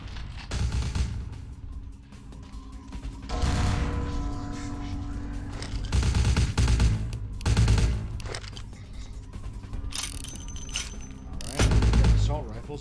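Gunfire in the game Vampire: The Masquerade – Bloodlines, heavy bursts of assault rifle shots crackling over a dense background mix, loud and near, with sharp bright impacts late in the clip.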